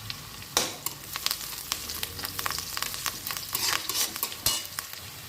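Curry leaves and spices frying in hot oil, a near crackling sizzle with sudden loud spits and bursts as the leaves hit the oil, and occasional stirring clinks against the pan.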